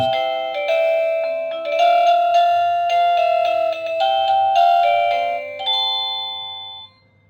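An Anitech DB02-BK wireless doorbell plays a bright melodic chime, a sequence of ringing electronic tones lasting several seconds before stopping, with no voices.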